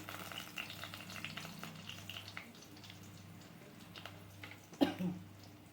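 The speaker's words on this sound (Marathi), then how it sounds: "आता हिरवी मिरची ही तळली आता कढीपत्ता टाकला" Green chilies and curry leaves frying in hot oil in a pan, a continuous soft sizzle with light stirring, ending in a sharper burst of crackling near the end.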